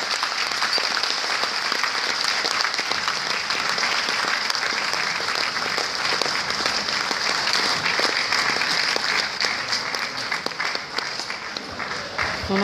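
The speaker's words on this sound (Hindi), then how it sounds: "आप लोग तो ताली बजाते ही रहे" A large seated crowd at a Gram Raksha Dal and Police Mitra conference in Rabindra Bhavan, Patna, claps in a dense, continuous roar of applause that holds steady for the whole stretch.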